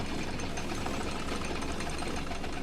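The Bucket Destroyer machine in The Stanley Parable runs with a steady, rapid mechanical chatter, an even, continuous clattering hum at moderate volume with no voices.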